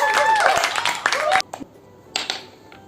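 Kindergarten children clap in a classroom, a brief burst of quick, close claps that stops abruptly, followed by a few scattered isolated claps, with speech around them.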